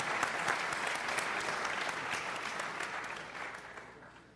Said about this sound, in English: Big round of applause for Mr.